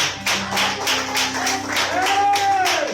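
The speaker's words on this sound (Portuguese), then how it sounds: "pode aplaudir o Senhor Jesus." A church congregation claps during a worship service, the claps falling in a steady rhythmic beat, close and fairly loud, with a voice sounding alongside.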